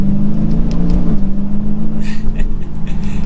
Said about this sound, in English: Getting up to some speed, playing with the car